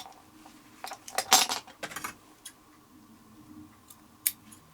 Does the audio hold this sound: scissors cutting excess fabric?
yes